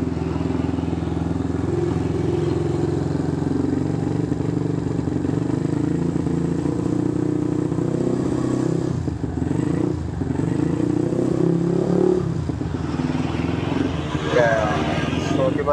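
A Suzuki Shogun R110 motorcycle fitted with an Andy Speed aftermarket exhaust revs up close and loud, holding a steady, throaty drone that dips and surges briefly near the end.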